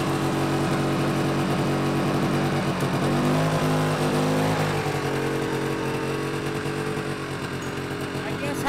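A snowmobile engine drones steadily throughout, taking off and pulling away on snow at an off-grid cabin, loud and continuous with a rising pitch partway through and voices talking over it.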